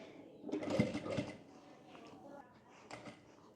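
A sewing machine stitches the top edge of a straight palazzo trouser in a short, quiet burst of rapid needle strokes, followed by softer fabric handling nearby.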